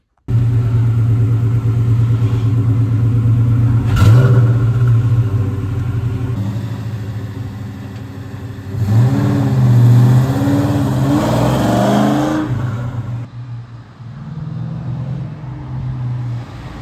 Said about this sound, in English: here's a few clips of the car running